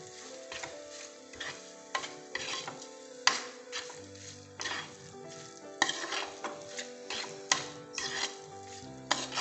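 A thick prawn curry masala stirred in a pan, with repeated scraping strokes of a spoon against the metal over a steady sizzle, and some clinking of utensils, close and fairly loud with no talking.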